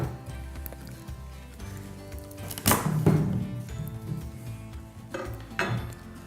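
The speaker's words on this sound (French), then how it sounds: "je peux couper mon potimarron" Knife chopping red kuri squash on a board in a kitchen, giving a few sharp, irregular cuts and knocks over a low background clatter.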